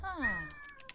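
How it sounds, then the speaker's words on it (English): A house cat gives a single short meow, fairly close and clear, sliding down in pitch, with faint clicks trailing after it. "That is my cat."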